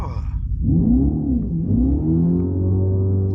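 A 2024 Dodge Charger R/T Daytona engine revs up, dips, then climbs again into a sustained, rumbling drone, loud and close.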